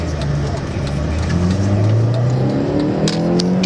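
A 2003 Mini Cooper engine pulls steadily on a road test drive, its tone rising as it accelerates, close and continuous for a few seconds with no talk over it.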